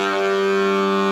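A bass-plus-lead synth patch meant for a talkbox, played straight without the tube in the mouth: a steady, loud, buzzy sustained tone with stacked harmonics, holding evenly for about a second with no voice.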